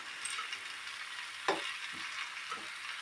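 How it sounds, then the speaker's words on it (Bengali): Potatoes coated in spice paste are slowly stir-fried in a pan, giving a soft, continuous sizzle broken by a few scraping stirs of the spoon. "এইভাবে এবার আস্তে আস্তে করে আপনাদেরকে কষতে হবে।"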